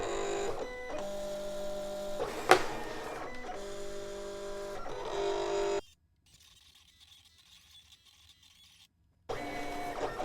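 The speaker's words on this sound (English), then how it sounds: "as long as you don't pull the material and mat out of the cutting machine, it will cut in the exact same spot the second time." A home vinyl cutting machine runs over sticker material on a mat with a steady mechanical whir and motor buzz that shifts in pitch. It stops for a few near-silent seconds, then starts again.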